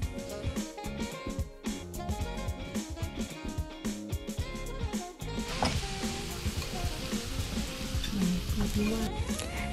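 Steady crackling sizzle of pork frying on a Thai tabletop grill (mu kratha), with busy clatter and faint background voices throughout.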